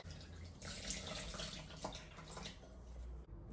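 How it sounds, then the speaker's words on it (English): Tap water runs steadily into the pot of a tomato plant, a continuous close splashing and gurgling flow that stops abruptly near the end. "It's filling up with water."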